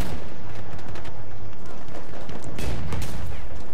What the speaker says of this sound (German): Hier kommt eine Granate nach der anderen geflogen.